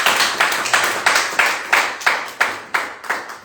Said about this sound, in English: Round of applause for Ifani, please.